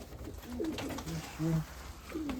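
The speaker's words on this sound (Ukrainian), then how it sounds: "Це голубочок. Ось такий голубочок." Soft, low cooing of a black white-tailed Mykolaiv pigeon repeats several times against a faint background hiss, fairly close and gentle.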